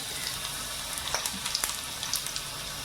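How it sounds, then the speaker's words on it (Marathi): Chopped garlic sizzles and crackles steadily in hot oil in a pan, the base for a prawn biryani gravy, with scattered sharp pops over a continuous hiss close by. "आता आपण लसूण टाकून घेऊ तेला"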